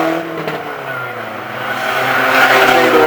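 Race cars roar down the back straight at Arlington Stadium, and the engine note swells and climbs as they pass close by. The noise is loud and throaty, with a faint squeal from the tyres.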